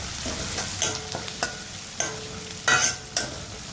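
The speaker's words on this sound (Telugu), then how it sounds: "సన్నగా తరుక్కున్న ఉల్లిపాయలు వేసుకోవాలి. ఇది కూడా వేసుకున్న తర్వాత కొంచెం వేయించుకోవాలి." Thinly sliced onions fry with cumin seeds in a hot pan for a methi curry. A steady close sizzle is broken by several scraping stirs and clatters, with no voices.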